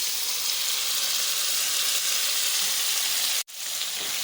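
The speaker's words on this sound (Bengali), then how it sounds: "মটনের সঙ্গে মশলা খুব ভালো করে কষিয়ে নেব।" Cooked mutton fries with masala in a pan for mutton kala bhuna, giving a loud, steady, dense sizzle that cuts out for an instant near the end before resuming.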